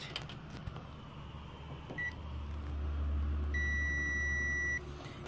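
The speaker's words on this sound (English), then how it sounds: "I'm gonna use the multimeter and the diode mode" A multimeter set to diode mode beeps during continuity checks on a Samsung TV's connector: a short tone, then a longer steady beep of about a second, clear over a low background hum.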